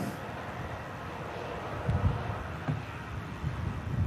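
A Saudia airliner lands at Manchester Airport in blustery wind, a faint, distant, steady roar mixed with gusty wind buffeting and a few low thumps.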